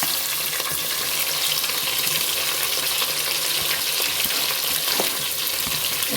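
Chopped big onions and green chillies fry in a pan for a hot, spicy chicken gravy, a loud, dense and unbroken sizzle with light stirring scrapes and no voices.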